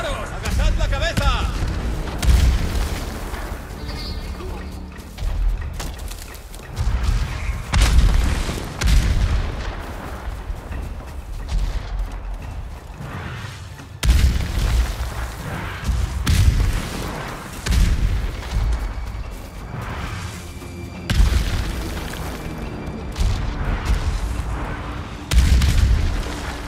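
Cannon fire and explosions in the video game Ghost of Tsushima: repeated heavy booms and blasts in a dense battle mix, with shouted voices over loud continuous combat noise.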